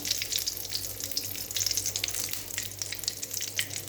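Whole garam masala spices sizzle in hot oil as a Bengali egg curry begins, a continuous crackling, spitting hiss close by that stays loud and steady throughout.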